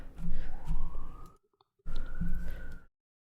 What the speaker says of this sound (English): There's those sirens.